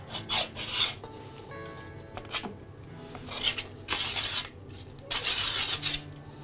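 A hand plane takes shavings off wood while winding sticks are made: repeated rasping strokes, each a short scraping swish, come in an uneven rhythm with brief pauses between passes, close and fairly loud.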